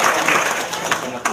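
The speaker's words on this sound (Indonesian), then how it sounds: "Tepuk tangan dong," Audience applause at a testimonial gathering, a short burst of dense clapping that stays fairly loud throughout, with talk running over it.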